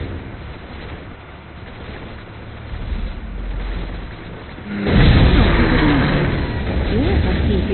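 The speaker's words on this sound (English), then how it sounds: "Natasha can call down an airstrike on the gates." An airstrike called down by Natasha in a video game breaks in as a loud, deep booming rumble that starts abruptly and keeps roaring after a quieter stretch of droning, wind-like noise.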